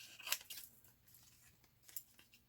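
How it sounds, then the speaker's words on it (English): Scissors trimming wire and paper for a junk journal dangle, two or three quiet crisp snips close up with faint pauses between them. "my scissors"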